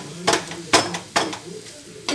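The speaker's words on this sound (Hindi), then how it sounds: "ये मैंने देखिए अच्छे से इसको फ्राई कर दिया है" Spiced potato paratha stuffing is stirred in a frying pan, with four distinct scraping strokes of a spatula at a steady rhythm over a low sizzle, close and clear with no talking.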